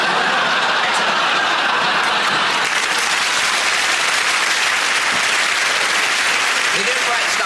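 A studio audience at a sketch comedy show applauds, sustained steady clapping from the crowd with a little laughter mixed in, loud and continuous throughout.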